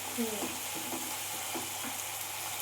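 Ginger, garlic and onion frying in oil for a rahu fish curry, a steady close sizzle with soft stirring scrapes, faint voice traces in the background.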